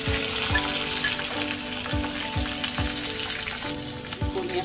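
Chopped green chillies crackling in hot tempering oil with cumin and fried peanuts, a close, steady sizzle with small pops and the repeated scrape of a spoon stirring the pan.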